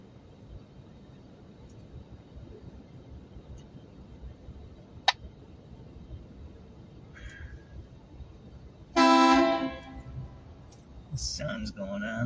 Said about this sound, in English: Somebody's beeping their horn there